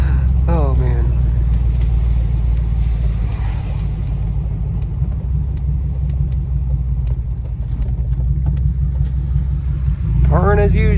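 An old $1,200 beater car nicknamed Big Bertha idles with a loud, steady low rumble that dips slightly midway, while a voice speaks briefly near the start and end.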